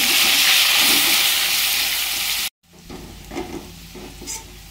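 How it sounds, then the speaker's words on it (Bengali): Chopped onion and slit green chillies sizzle loudly in a hot pan, a steady frying hiss that cuts off abruptly, then quieter stirring and scraping sounds follow. "এতে হচ্ছে কুচনো পেঁয়াজ আর কাঁচা লঙ্কা, চেরা কাঁচা লঙ্কা দিয়ে দিলাম। পেঁয়াজটা একটু ভেজে নিচ্ছি।"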